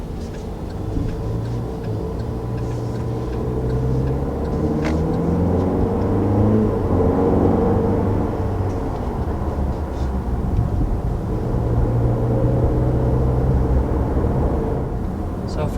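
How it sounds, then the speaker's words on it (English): A 2019 Cadillac XT4 with a turbocharged four-cylinder pulls away on a test drive, giving a steady low engine and road rumble heard from inside the cabin, continuous and fairly loud. "taking off in the all-new XT4, I have to say it has really good pep off the line from the Turbo 4"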